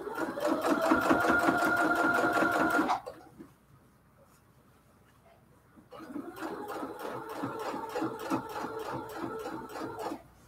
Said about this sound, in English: Backstitch, backstitch.